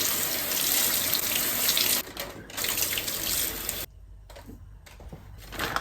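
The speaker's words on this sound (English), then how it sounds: "so I'm going to just wash these." Running tap water pours steadily over sugar snap peas and asparagus tips being washed at a kitchen sink, loud and close, with brief breaks and a quieter, interrupted stream toward the end.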